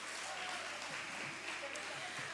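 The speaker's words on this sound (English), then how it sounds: "A round of applause for them all," An audience claps for the panelists at a 2024 youth symposium in Manchester: a steady, dense wash of many hands applauding throughout, fairly loud and close, with faint voices mixed in beneath.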